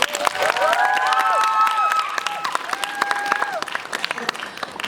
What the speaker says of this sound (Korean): 박수 한번 치고 시작할까요?